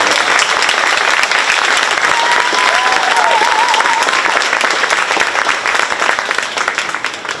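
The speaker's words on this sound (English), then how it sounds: "I'd like to give her a round of applause for stepping in" An audience claps steadily at a county fair queen ceremony, a dense, loud, sustained round of applause that holds throughout and tapers slightly toward the end, with a faint voice or whistle-like tone briefly above it.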